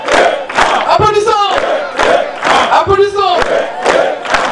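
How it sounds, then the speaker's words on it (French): Crowd at a church thanksgiving celebration in Mvouti in 2017 erupting in loud, sustained cheering and rhythmic collective cries, rising in repeated surges that swell and fade across the span. "Une fois de plus, Applaudissons."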